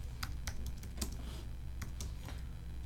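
A computer keyboard is typed on in quick, uneven bursts, crisp close key clicks over a low steady hum, without speech.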